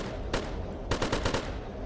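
Assault rifle fire in the video game Zompiercer: a single loud shot, then a quick burst of four or five rapid shots, sharp and close.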